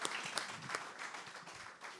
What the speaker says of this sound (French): On applaudit Nathalie, là?